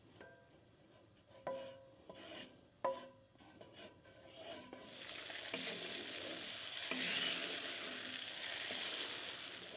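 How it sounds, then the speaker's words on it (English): Butter and scrambled emu egg yolk frying in a skillet build into a steady broad sizzle that swells after a few clattering utensil scrapes and knocks at the start, with no talking. "Now for a little butter in the skillet."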